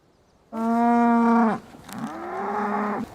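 A cow gives two long, deep moos close by. The first is loud and steady, and the second is softer and rougher.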